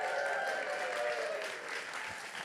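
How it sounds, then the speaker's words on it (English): An audience applauds in a large creative workspace at Newlab in New York, a dense, steady wash of clapping that holds for a couple of seconds and tapers slightly toward the end. "can we get a quick round of applause for Newlab?"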